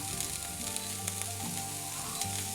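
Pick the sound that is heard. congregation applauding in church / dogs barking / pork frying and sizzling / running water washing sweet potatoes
pork frying and sizzling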